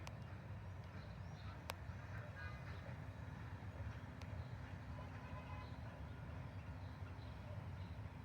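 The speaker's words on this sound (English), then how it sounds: "I think it's that steam engine." A train rumbles steadily at a distance, a low continuous drone with faint mechanical clatter throughout, with a brief sharp click partway in.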